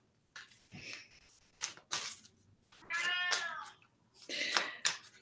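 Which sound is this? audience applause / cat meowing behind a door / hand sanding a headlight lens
cat meowing behind a door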